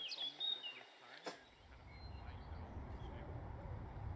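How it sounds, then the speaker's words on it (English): Birds chirping in a Somnium Space virtual reality world, several high tweets and calls early on, fading into a steady low ambient rumble. "Get some bird sounds"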